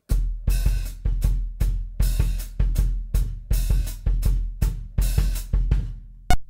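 A drum set plays an ostinato groove, kick and snare on a steady pulse with the hi-hat opening and closing on the off-beats, loud and clean with no voice, ending on a single accent.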